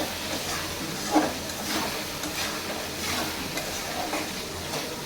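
Shing fish curry with drumstick stems sautés in a pan, giving a steady close sizzle and hiss, with one brief clatter of stirring early on.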